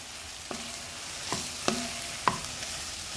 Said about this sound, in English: It is actually just sizzling away here, which is great. That means that butter is going to go ahead and caramelize our vegetables